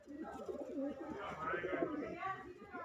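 Punjabi Malwai pigeons coo in a steady, overlapping chorus, soft rolling calls from several birds close by with no pauses across the stretch.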